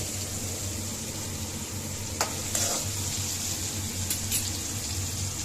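Mango pieces sauté in hot oil for pachadi, a soft constant sizzle with a couple of quick stirring scrapes and clinks near the middle and end, close and unaccompanied by speech.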